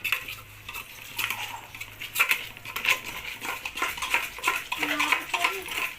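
Cooked dal for a spicy red chili dal tadka is mashed in a metal pot, making irregular clanking and scraping strokes of a utensil against the pot, close and moderately loud, with no talk.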